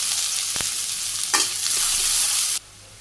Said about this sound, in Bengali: তেলও গরম হয়ে গেছে, পেঁয়াজ কুচি দিয়ে দিলাম